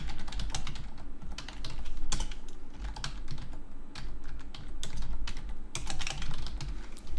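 Fingers type quickly on a computer keyboard, close up and alone, making a dense run of sharp clicks with the occasional heavier key press.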